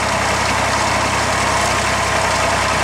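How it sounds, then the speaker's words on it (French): A tractor engine idles at a farm in Senegal, a steady, close, low diesel-like throb with an even mechanical hum that holds without change throughout, with no voices. "Bac prend les commandes du tracteur, accompagné de Claude."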